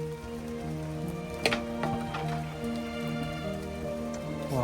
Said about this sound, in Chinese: 哇，好久都没有下暴雨了。